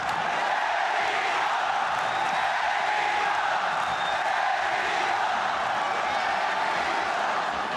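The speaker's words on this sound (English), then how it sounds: "Here come the chants again." An arena crowd at a fighting event chants in a dense, steady roar that fills the space, loud and continuous with no break.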